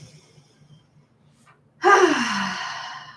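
A single loud, sharp exhale during a Pilates exercise bursts out after a near-silent stretch and trails off slowly, close to the listener with no talking.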